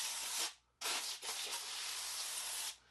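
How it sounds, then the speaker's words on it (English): Foam sprayed onto a car tire in a wash bay, a steady broadband hiss in two long near bursts with a brief pause between them. "Then we're going to hit the tire with the foam."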